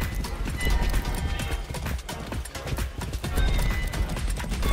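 A horse gallops in the video game Far Cry 6, a fast, steady run of hoofbeat thuds that stays loud and close throughout, with no talk.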